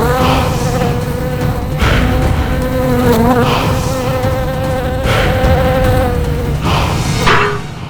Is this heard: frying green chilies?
no